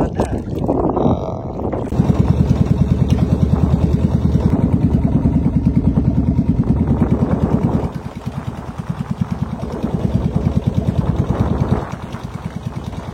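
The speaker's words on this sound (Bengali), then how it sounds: "কিছু দূরে গিয়ে তারপর আবার ট্রলার ছুটবে সামনের দিকে" A fishing trawler's engine runs on the Padma river with a loud, close, steady chugging beat that continues throughout and shifts slightly in tone partway through.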